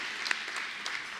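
Applause from a gala ceremony audience, a steady wash of clapping with a few sharper claps standing out, heard from a distance.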